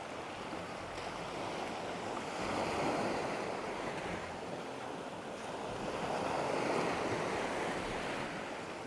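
Waves roll onto a sandy beach on Koh Kut, Thailand, a soft, continuous wash of surf with gentle swells rising and falling every few seconds, with a light wind hiss and no voices.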